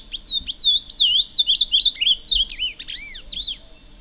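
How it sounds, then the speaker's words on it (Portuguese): An ultramarine grosbeak sings a lively run of warbling, whistled phrases, clear and close, over a faint steady background hum. "O azulão é um dos pássaros mais apreciado pelo brasileiro, especialmente por sua valentia e seu canto."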